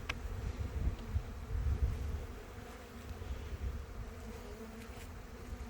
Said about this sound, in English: That was an interesting buzz.